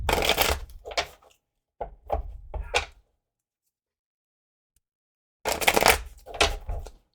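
A deck of tarot cards shuffled up close in quick bursts, with crisp riffling and tapping in a few short clusters separated by a long silent pause.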